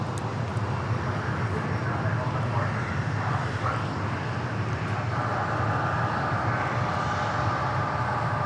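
A jet airliner approaching to land at Dallas Love Field, a steady broad engine roar and rushing whine that holds at a fairly loud level throughout, with faint voices in the background.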